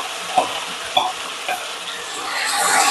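Ground masala paste with green cardamom roasts in a pan for chicken malai handi, a soft close sizzle marked by a few stirring scrapes.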